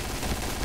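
Gunfire in the shooter video game Point Blank, a dense, rapid burst of overlapping shots filling the whole moment, loud and continuous with no talk over it.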